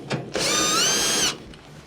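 A power drill whines steadily for about a second, backing a screw out of a Whirlpool dryer's blower housing, with faint clicks from handling just before and after.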